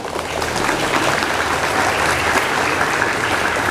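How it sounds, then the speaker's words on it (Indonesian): Steady, loud applause from a large gathering of Islamic boarding school students at a National Santri Day ceremony, continuous and unbroken throughout. "Tepuk tangan."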